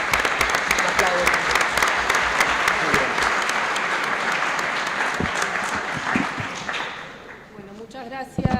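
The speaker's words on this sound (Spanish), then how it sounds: "Un aplauso." A conference audience at a national labour law congress in Rosario applauds after a panel talk, with sustained, dense clapping for several seconds that gradually thins and fades near the end.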